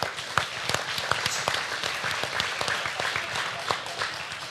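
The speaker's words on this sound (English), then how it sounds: "You can give them a round of applause." Audience applause in a swine show arena at a state fair, a few seconds of steady, moderately loud clapping with individual claps standing out, heard without talk.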